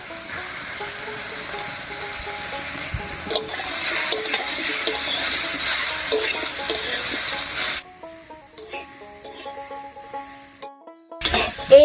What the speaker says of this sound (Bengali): এই অবস্থায় কিছুক্ষণ নাড়াচাড়া করে রান্না করে নেব